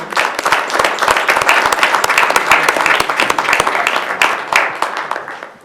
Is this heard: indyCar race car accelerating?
no